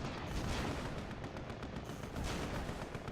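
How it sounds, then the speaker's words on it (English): Artillery units firing in the strategy game AirMech, a dense, muffled run of booming shots and rumbling blasts rolling together at a fairly low level. "But Maor with 2 artillery of his own firing in"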